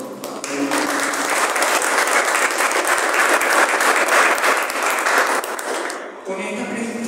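An audience at a book presentation for a poetry anthology applauds the poets, a dense, steady wash of clapping from many hands that holds for several seconds and then cuts off sharply, followed by a short lull.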